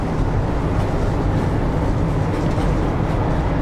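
A high-speed train running at nearly 300 km/h, heard from inside as a dense, steady roar and rumble that holds unchanged throughout, loud and close, with no voices.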